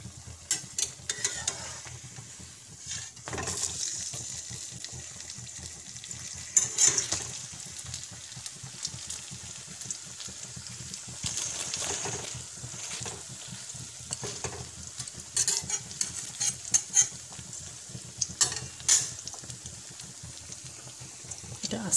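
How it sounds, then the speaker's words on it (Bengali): Pumpkin flower fritters coated in batter frying slowly in oil until reddish, a steady close crackling sizzle with scattered pops and occasional stirring, running under intermittent talk. "এটা আস্তে আস্তে ফ্রাই হোক, কিন্তু লালচে ফ্রাই আমি এটাকে করছি"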